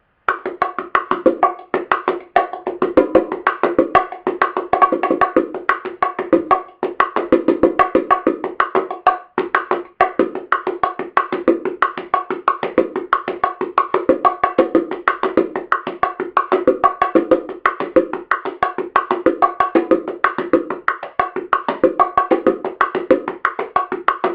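Bongos play a salsa martillo pattern alone, a steady stream of quick, crisp hand strokes that keeps an even, driving rhythm the whole way through with no pauses.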